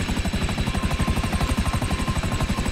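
A helicopter flies in Grand Theft Auto Online, its rotor thumping in a fast, steady beat over a loud engine drone that holds throughout with no pauses.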